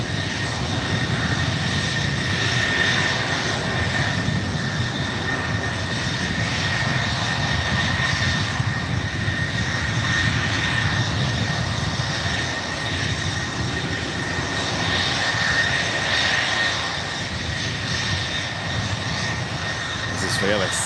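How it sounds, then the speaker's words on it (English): A SkyWest CRJ regional jet sits running loudly in a corner at San Francisco airport, its engines giving a sustained roaring whine with a swelling, surging character that rises and eases over time. "We have a Sky West CRJ over here. Being loud over here in the corner."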